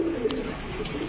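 A German Beauty pigeon coos in two short, soft calls over low background hum, close by and with no talk.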